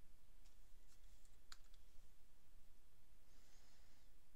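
Typing on a computer keyboard, a handful of soft, scattered key clicks at low level over a quiet room hiss, with no talking.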